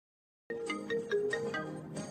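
A mobile phone ringtone for an incoming call starts abruptly and plays a bright, repeating electronic melody at moderate volume, alone with no voices.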